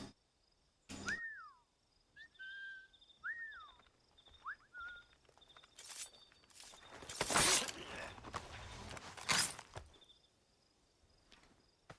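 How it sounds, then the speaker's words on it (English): A character in the video game Assassin's Creed III whistles repeatedly to lure a guard: several short, rising and falling whistles in quick succession, followed by soft footsteps and rustling in a quiet setting. "You'd think if you heard somebody just repeatedly whistling, you'd grow suspicious"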